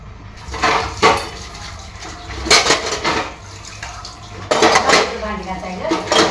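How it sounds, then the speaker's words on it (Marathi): Steel pots, pans and utensils clatter and clank at a home sink during dishwashing, in uneven bursts of metallic knocks with splashing water between them. A voice may be faintly present. "भांडी घासायला"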